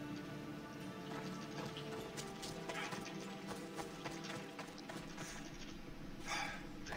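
Horse hooves clip-clop steadily at close range in Assassin's Creed Odyssey, a continuous trotting rhythm over a layered game soundscape with tonal background music.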